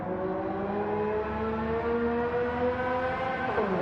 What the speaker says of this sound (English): The cars are a tiny bit loud.